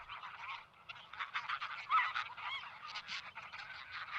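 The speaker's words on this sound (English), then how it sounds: "They do everything in groups, and a constant squawking chatter keeps them in touch" A flock of wild geese, wild relatives of the domestic goose, honking in a constant overlapping chatter, many nasal calls crowding together at moderate distance.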